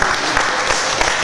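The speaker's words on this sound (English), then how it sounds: "Let's clap it up." Steady applause from an evening lecture audience, dense and continuous, with many hands clapping at once and nearby in the room.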